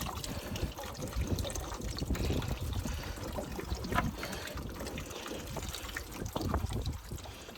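Water trickles and splashes steadily out of a homemade 5-gallon bucket toilet, heard close up with an uneven, dribbling flow and small surges.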